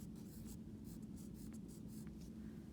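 Pen or marker writing the large title word on the paper flap of a scientific method flipbook, a steady scratchy scrawl of close, quiet strokes running throughout, with no talking.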